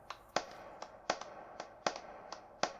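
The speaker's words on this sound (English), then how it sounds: "Surprised this guy's clapping." One person claps slowly and alone in an anime scene, about a dozen sharp, separate claps at an even, unhurried pace over a quiet background.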